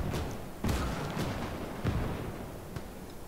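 A mortar fires in Gates of Hell, a WWII strategy game on the Mamayev Kurgan battlefield: three muffled, distant thumps spaced a second or so apart over low rumbling battle ambience.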